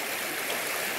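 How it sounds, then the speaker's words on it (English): The North Fork of the John Day River flowing near its confluence with the South Fork in Oregon, a steady, dense rush of water that is close and continuous, with no voices over it. "This here is the John Day River, the North Fork."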